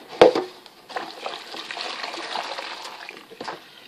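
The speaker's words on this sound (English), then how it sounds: "I'm just going to empty the bowl" Dirty brush-cleaning water poured out of a bowl, starting with a sharp knock, then a steady splashing, trickling flow for a few seconds, close by.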